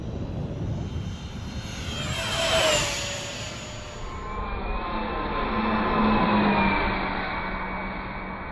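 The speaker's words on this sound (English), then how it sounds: "What a fun plane to fly, guys." A Villain radio-controlled model airplane passes overhead on a windy day. Its engine gives a steady whine that rises and falls as it approaches and recedes, swelling twice, with no talking.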